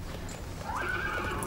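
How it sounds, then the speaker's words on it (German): A horse whinnies in a stable with a rising, sustained neigh over steady low background noise; no voices. "Aber das ist auch das beste Pferd aus unserem Stall."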